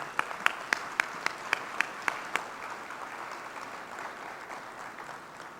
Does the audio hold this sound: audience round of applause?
yes